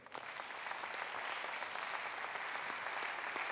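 A church congregation claps in steady, sustained applause. The many hands blend into a dense, even patter at moderate distance, with no voices over it.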